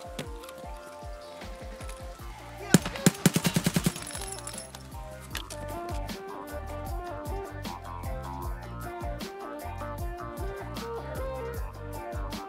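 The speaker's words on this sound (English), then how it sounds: "I'm just gonna shoot my legs now." A quick burst of automatic gunshots in Escape From Tarkov, about six sharp close cracks in rapid succession, set against continuous background game music and ambience.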